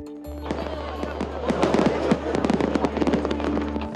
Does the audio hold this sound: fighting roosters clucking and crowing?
no